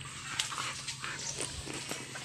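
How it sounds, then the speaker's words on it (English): A dog being rubbed outdoors in a hot town makes faint, close, short snuffling and soft whimpering sounds across a couple of seconds, with no talking. "I just stop here and sitting rub this dog."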